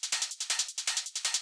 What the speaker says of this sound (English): basically just stacking a bunch of closed hi-hat loops